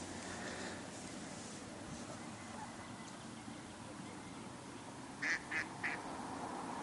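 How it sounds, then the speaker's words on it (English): A duck quacking outdoors on a calm evening in Domarudden, Sweden, three quick loud quacks near the end after a long stretch of steady ambient noise. "And that duck sure is cantankerous tonight."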